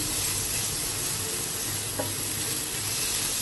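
Chicken mince fries in a pan with a steady, close, even sizzle and a faint stirring scrape partway through.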